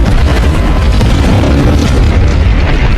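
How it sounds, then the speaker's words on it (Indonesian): A massive, sustained explosion as dozens of fuel-filled drums go up in Deadpool 2, a loud, continuous roaring boom with dense low rumble and crackling debris throughout. "meledakkan dirinya di puluhan drum yang berisi bahan bakar"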